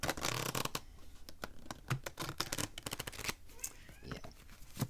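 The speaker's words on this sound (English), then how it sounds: "it's kind of weird shuffling on a desk, honestly." Tarot cards are riffled and shuffled on a desk, giving rapid papery flutters and soft slaps in quick bursts, close up and quiet.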